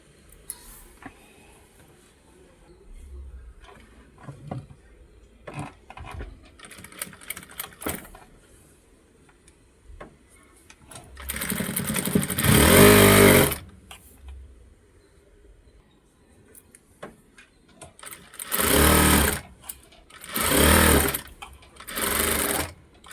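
A sewing machine stitches a blouse in short bursts, quiet at first and then running loudly for a few seconds at a time, with pauses between runs.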